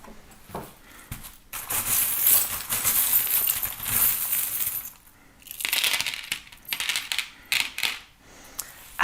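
Small divination charms are tossed and shaken together in bursts, giving bright, rattling metallic clinks and jingles with short quiet gaps between the handfuls, close by and with no one talking.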